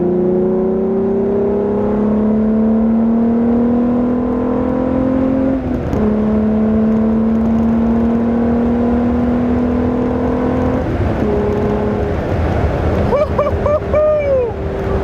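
A tuned car pulls hard in second gear, engine note climbing steadily and loudly up the revs, with a brief dip mid-pull, then a sharp shift or lift near the end with rising whine.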